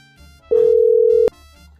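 A single steady telephone tone, like a ringback or dial tone from a call being placed home, sounds loud and continuous for under a second over quiet room background.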